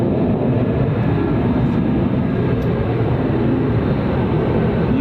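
An F-22 Raptor fighter jet taxis at an RAF airbase, producing a loud, continuous, roaring engine rumble that holds steady for the whole stretch.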